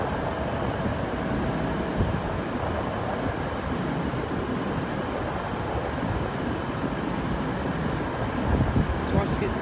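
A train runs through a tunnel as a continuous low rumble and rush of air. The noise is steady, fairly close and moderately loud, and there is no talk over it.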